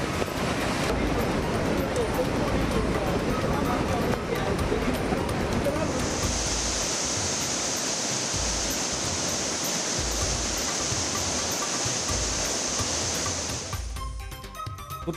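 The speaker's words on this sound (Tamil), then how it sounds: "குற்றால அருவிகளில் தொடர்ந்து வெள்ளப்பெருக்கு." Floodwaters roar down the Courtallam waterfalls in a loud, continuous broadband rush with no break, while a steady high-pitched tone sits over the torrent through the middle and later part.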